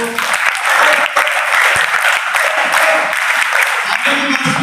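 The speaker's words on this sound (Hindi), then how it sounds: "एक बार मेरी बेटी के लिए ताली बजा दो।" Sustained audience applause at a youth group event in India, loud and dense throughout, a crowd clapping together without pause.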